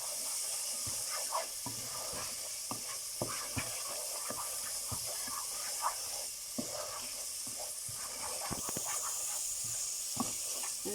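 Masala spice paste sizzling in a hot pan for a magur fish and cabbage dish, a steady hiss with scattered crackles and pops, close and moderately loud, with no talking.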